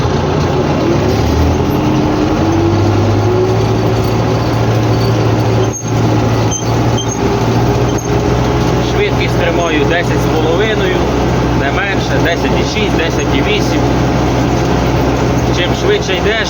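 A tractor with a lowered implement works a stubble field, its engine droning loud and constant from the cab with a steady low hum and rattling, heavy mechanical rumble throughout, and no speech.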